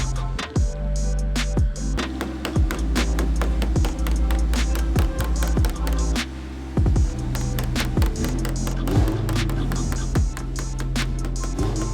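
Sharp, repeated metal taps knocking down a McLaren 720S quarter panel after heating, close and loud, coming in quick irregular bursts over a low steady hum.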